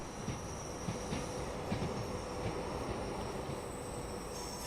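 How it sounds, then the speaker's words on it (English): A Pendolino train pulls out of a station in Train Sim World 5, giving a steady, full rolling rumble with faint rhythmic wheel clicks and a thin high whine throughout, with no voices. "And there's the Pendolino leaving."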